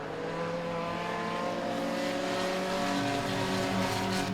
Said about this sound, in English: staying out of the way of the faster cars as they go by